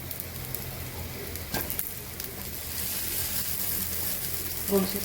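Amboli batter made from bhakri flour sizzles on a hot pan after being flipped, a soft, even hiss with a brief spatula scrape and a faint crackle near the end.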